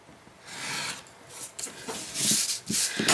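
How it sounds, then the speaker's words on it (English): A metal We Are Memory Keepers craft knife slicing off the corners of a handmade book cover, giving short dry scraping and rasping strokes in bursts, close and alone with no talking. "So I'm going to grab my craft knife. This is also a We Are Memory Keepers, and I am just going to cut off the corners."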